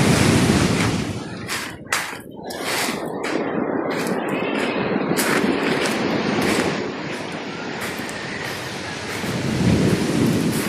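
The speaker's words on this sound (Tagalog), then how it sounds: "Dumadagong ang alon" Roaring sea waves pound a rugged shore, heavy rumbling crashes surging and breaking in loud bursts with a constant turbulent wash between them, near and powerful.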